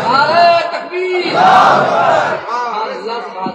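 A crowd roars a Takbir slogan in unison at a religious gathering, a loud, swelling chant of many voices that rises to a peak mid-way and then trails off into scattered shouting.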